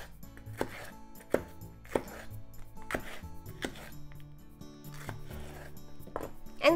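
Knife cutting slits into a Japanese leek on a board, a series of crisp separate chops spaced about a second apart, close and fairly quiet, with no talking.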